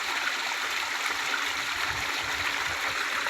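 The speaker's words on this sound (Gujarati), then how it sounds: "મસ્ત પાણી હવે ચોખ્ખું પાણી આવે।" Clean water flows into a garden bed of marigolds, a steady, even rushing and gurgling that holds at a constant level throughout, with no voices.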